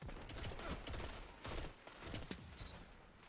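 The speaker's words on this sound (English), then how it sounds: "Yep, 3 bursts to the head." Legal Action II pulse rifle from Destiny 2 fires repeated rapid bursts in a Crucible match, loud and close, with sharp cracks packed densely over continuous game noise.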